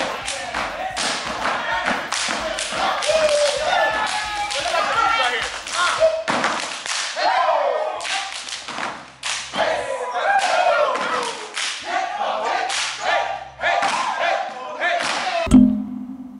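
A step team performs at a community arts venue, with rhythmic stomps and thuds, hand claps and shouts from the steppers carrying steadily over crowd noise and voices.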